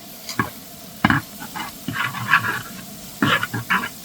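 Four green chillies frying with garlic in oil in a large pot for soybean biryani, brief sizzling bursts and stirring scrapes that come and go, close by.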